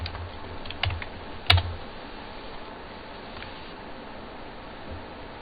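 Quick bursts of computer keyboard typing, close and crisp, with a few sharper key strikes early on before the tapping grows sparse and light over a quiet room hum.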